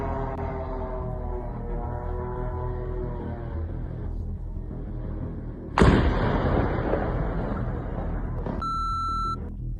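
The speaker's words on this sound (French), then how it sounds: "Cette attaque a provoqué une énorme explosion." A huge explosion from an attack on the Progress factory in Cheboksary: a low rumbling roar that suddenly bursts into a loud sharp blast, followed by sustained heavy noise and high tonal beeps near the end.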